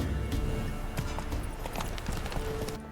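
Horse hooves gallop in a steady, fast clip-clop rhythm, close and fairly loud over a low ambient bed, ridden through the highlands in The Witcher 3: Wild Hunt.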